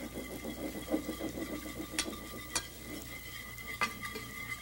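A whisk beats olive oil vinaigrette for mushrooms in a bowl, making a rapid rhythmic swishing and rattling with a few sharper clinks against the bowl, close and moderately loud, with no talk.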